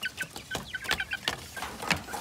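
Several chickens fed on ipil-ipil cluck in quick, irregular bursts close by, a busy overlapping chatter of short calls with no talking.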